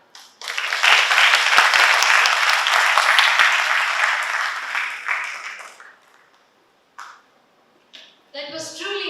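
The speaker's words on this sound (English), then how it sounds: "A big round of applause to all our talented presenters" An audience applauds at a Bharatiya Bhasha Utsav 2025 language celebration, loud dense clapping for about five seconds that fades out, then a voice speaks.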